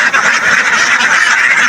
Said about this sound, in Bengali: দেখুন প্রচুর হাঁস